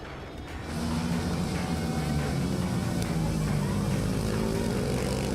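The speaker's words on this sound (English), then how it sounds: "we are going to see a good battle in the Supermotard 1 make 250cc, the 4-stroke bikes" Pack of 250cc four-stroke Supermotard bikes racing at a championship round, engines building into a loud, continuous droning roar after a quiet start, with pitch shifting as they pass.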